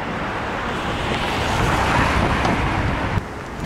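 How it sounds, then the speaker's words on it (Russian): Strong autumn wind roars steadily across the microphone, a dense rushing noise with no voices. "Сегодня ветер сильно поднялся."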